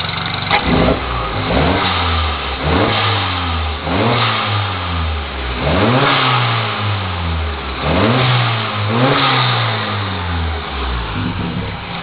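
A Peugeot 207 GTI turbo with 175 horsepower, pod filter, Forge blow-off valve and recirculation valve, oil catch can and PCV delete revs repeatedly, each loud rise falling away with a blow-off whoosh, with no talk.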